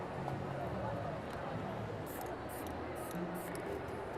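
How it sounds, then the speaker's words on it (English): A steady hiss of Kryolan hairspray from an aerosol can runs throughout with short sharper bursts near the end, close by, while a voice talks faintly underneath. "Just going to give it a light coat of black spray with the Kryolan hairspray"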